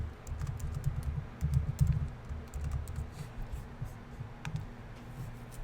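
Close computer keyboard typing as a MongoDB database query is entered, bursts of quick key clicks with short pauses and no talk.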